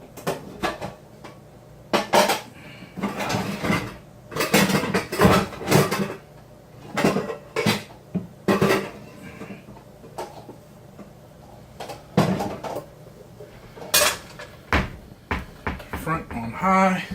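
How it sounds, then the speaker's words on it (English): In a home kitchen, a big cooking pot is pulled out and handled with a string of hollow metallic clanks, knocks and cupboard bumps in irregular bursts, with talking between the noises. "We need another big old pot."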